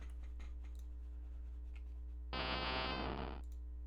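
Tentacruel's cry from a Pokémon video game, a short, harsh electronic buzzing burst lasting about a second, preceded and followed by faint ticks over a constant low hum.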